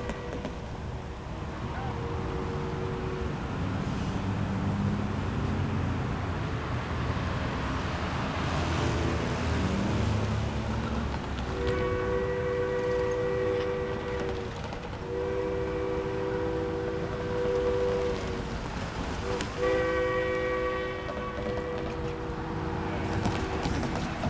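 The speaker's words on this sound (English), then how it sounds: "473, the train's coming in now." Narrow gauge train 473 arrives, its engine rumbling and wheels clattering steadily, with repeated horn or whistle blasts sounding in several separate bursts near the end while people talk faintly nearby.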